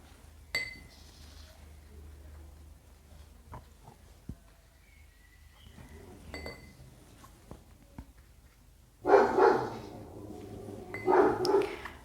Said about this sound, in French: vous attendez Luna qui aboie.